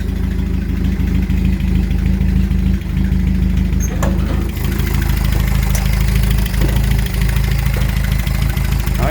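A 1963 Datsun 1200 pickup's small engine runs at a steady idle, a loud, continuous low rumble close by with a few faint clicks and knocks over it and no talking.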